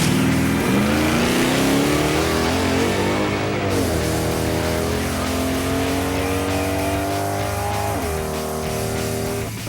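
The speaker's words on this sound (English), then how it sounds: "That was a lot better launch, a little bit of wheel spin" A Chevy S-10 drag truck launches at wide open throttle on an eighth-mile strip, its engine roaring loud and close with rising revs, a brief shift dip, then climbing again, with a touch of tire spin at the start.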